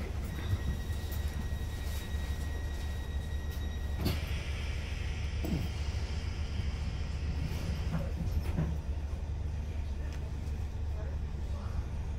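Steady low rumble of a train running, heard from onboard a service to London Waterloo between Twickenham and Raynes Park, with faint rattles and clunks over the constant drone.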